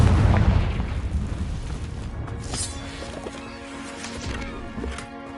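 Confringo blasting-spell explosions in Hogwarts Legacy: a loud, deep boom opens the stretch, then rumbling blasts and crackling debris keep rolling in waves, fading a little toward the end.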